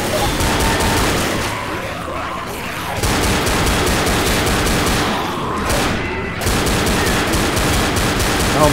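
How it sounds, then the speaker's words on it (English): Sustained bursts of loud gunfire in Left 4 Dead, rapid automatic shots continuing across the whole stretch with brief lulls between volleys. "I'm over here trying to shoot them."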